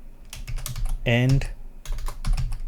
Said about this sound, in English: So I copy and paste the public key. So looks good here, and I'm going to type